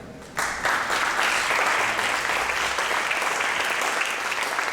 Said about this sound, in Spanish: recibimos y con un fuerte aplauso al doctor de Alba de Alba